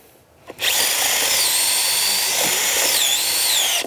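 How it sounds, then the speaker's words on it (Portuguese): A power drill with a self-cut speed spade bit bores through dense maçaranduba hardwood, starting abruptly into a loud, steady high whine that holds with slight pitch wavers before cutting off at the end. "A gente tá furando a maçaranduba, tá?"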